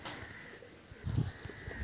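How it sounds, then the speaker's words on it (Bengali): Domestic pigeons in a loft, housed in separate male and female sections, give a few soft, low coos that swell around the middle of the clip over faint background noise. "তো এবার দেখাবো হৃদয়দার কিছু পায়রার কালেকশন দেখাবো।"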